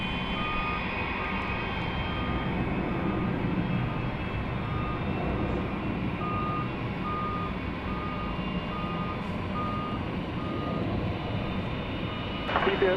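A jet departs DFW Airport at night: a constant broad engine roar holds steady throughout, with a faint intermittent beeping and a slight swell at the very end, with no talking.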